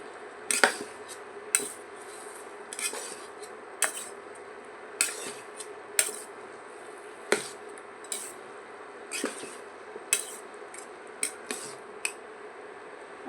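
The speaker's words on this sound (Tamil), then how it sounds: "நல்லா சுற்றி ஒரு 5 நிமிஷம் கிளறி விட்டுட்டே இருங்க." A spoon scraping and clinking against a metal cooking pot while jackfruit curry is stirred, with about a dozen sharp irregular metallic knocks over a steady background hum and no talking.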